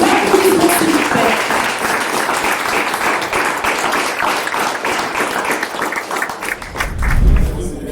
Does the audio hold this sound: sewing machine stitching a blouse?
no